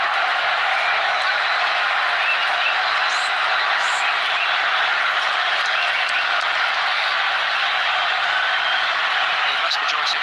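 A stadium packed mostly with Colombian football fans sends up a continuous, dense roar of cheering and noise, steady and loud throughout, with a few faint whistles or calls rising out of the wash.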